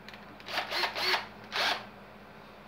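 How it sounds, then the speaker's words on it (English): A power drill bores a pilot hole and drives a screw into wood, heard as two short whirring bursts close by, ending in a sharp click. "You screw it, drill a pilot hole first because you don't want to crack the wood."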